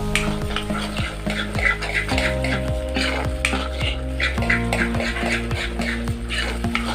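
Besan curry being stirred and fried in a pan, with steady sizzling and repeated scraping strokes of a spoon against the pan, close and continuous, with no talking.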